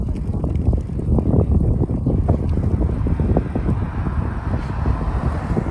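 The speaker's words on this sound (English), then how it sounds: "Now the wind is blowing straight to our faces" Wind rushing into cyclists' faces while riding downhill on a bike, a steady loud buffeting roar across the microphone with no pauses.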